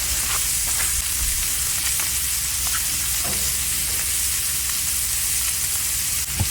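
A ribeye steak sears on a Blackstone flat-top griddle, giving a steady, loud, close sizzle and crackle that holds evenly with no talk over it.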